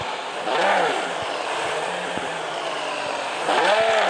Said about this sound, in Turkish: Araba o kadar hızlı gidiyor ki duramıyor.